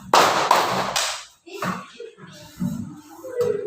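Students in a classroom clap together on a teacher's count, three quick loud group claps in a row, then scattered softer hand sounds and brief talk.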